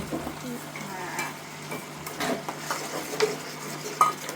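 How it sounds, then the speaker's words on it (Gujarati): Tomato gravy simmers in a pan under a low, continuous sizzle, with intermittent stirring and small clinks of a spoon against the pan throughout. "આ ટમેટાની ગ્રેવી નાખવાની પછી હો"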